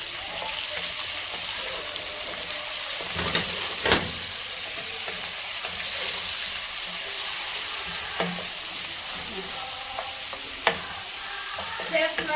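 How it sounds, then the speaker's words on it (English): Onions frying in a pan on a home stove, a steady close sizzle with occasional clinks and stirring scrapes of a utensil against the pan, no talking. "we're gonna wait for the onions at least to brown a little before we put in the garlic and then the pilau masala"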